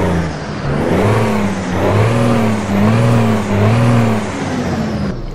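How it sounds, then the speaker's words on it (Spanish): A Kenworth W900 truck in American Truck Simulator runs with a loud, close diesel drone that rises and falls in repeated revving swells, steady and continuous throughout. "Encendamos el motor porque ya nos vamos, amigos."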